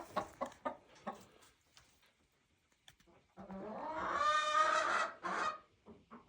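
Chickens near their coop make close clucking and squawking sounds, with scattered short calls at first, then a loud, sustained squawk run in the middle, followed by a few more clucks.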